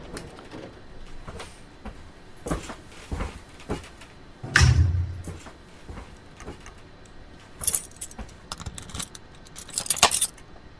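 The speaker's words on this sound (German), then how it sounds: "So, wir öffnen als erstes natürlich die Türen." Train doors in Train Simulator 2022 operate on the S8 Frankfurt Hbf to Kelsterbach line as a sequence of clicks, clunks and jangling metallic rattles, with a louder thump and slide near the middle and bright clatters toward the end.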